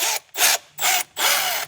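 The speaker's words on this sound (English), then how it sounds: "I'm doing all of these by hand with the hammer as well" A hammer taps a bracket by hand into its seat on a disassembled DeLorean engine, giving three or four close, rough bursts of striking and scraping separated by short pauses.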